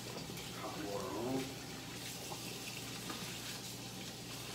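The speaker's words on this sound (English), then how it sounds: "Hot water on." Water runs steadily from a tap at a low, constant level, with a voice speaking faintly over it.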